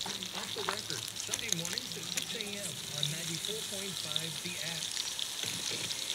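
Frozen, precooked tail-on shrimp drop into a Dutch oven of hot garlic butter, setting off a steady crackling sizzle that runs throughout beneath someone talking.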